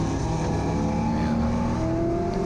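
A Gridlife Touring Cup race car accelerates hard off the start at Autobahn Country Club, its engine note climbing steadily through the rev range, close and loud throughout with no break.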